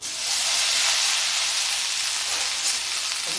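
Okra hitting hot oil seasoned with cumin and turmeric gives a loud, steady, bright sizzle and hiss that holds evenly throughout, close up, with no voices.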